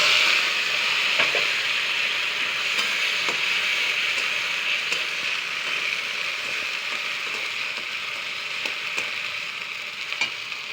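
Radish leaf paste frying in hot oil over a mustard seed tempering, a steady close sizzle running throughout with occasional faint clicks and pops, no voices.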